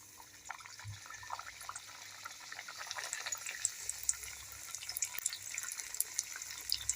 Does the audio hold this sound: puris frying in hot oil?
yes